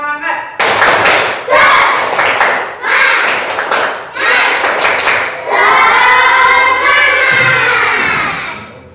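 Primary school children clap in bursts of a rhythmic pattern while chanting loudly together in Indonesian in a classroom, ending in a long drawn-out shout.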